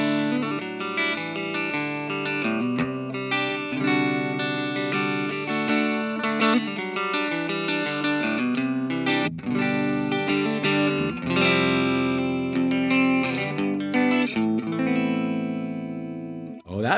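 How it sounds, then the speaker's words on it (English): A clean electric guitar runs through a compressor effect on an XTONE interface, played continuously with chords and melodic lines at an even, sustained level, alone with no talking. "If I press A, I have it assigned to my compressor."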